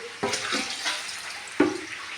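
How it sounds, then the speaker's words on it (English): Water is poured for making a baby's milk, giving a splashy, hissing gush with a couple of brief gurgling spurts, close by and with no talking. "I am going to put the water."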